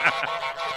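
A cartoon goose honks in Untitled Goose Game, one short, bright, nasal honk up close, followed by a fainter trailing call, with no talking.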